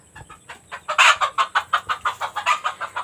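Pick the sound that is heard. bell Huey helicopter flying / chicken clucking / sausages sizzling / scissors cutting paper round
chicken clucking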